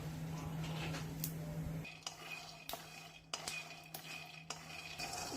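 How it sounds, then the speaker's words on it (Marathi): Peanuts dry roast in a pan over a medium flame, a quiet rattle of nuts shifting under occasional sharp metallic scrapes and clinks of a spoon against the pan, faint and close. "शेंगदाणे छान आपल्याला मीडियम फ्लेमवरती भाजून घ्यायचे"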